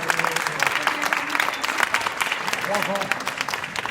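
Applause at a banquet, a moderate room of clapping that rises and continues for a few seconds while a voice talks over it.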